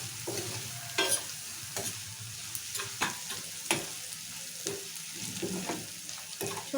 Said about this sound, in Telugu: ఉల్లిపాయలు కూడా మంచిగా ఫ్రై చేసుకోవాలి